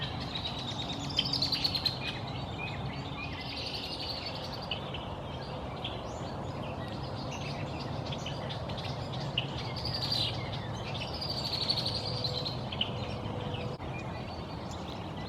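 Red-winged blackbirds call in spring near a pond, their repeated high trills and chirps rising over a steady outdoor background, moderately distant and without speech.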